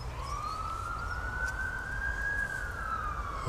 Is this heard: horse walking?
no